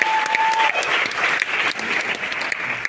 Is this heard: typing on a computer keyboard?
no